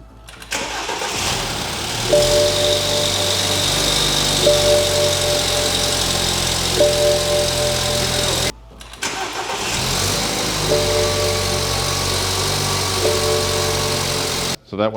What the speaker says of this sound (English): it's idling well and running well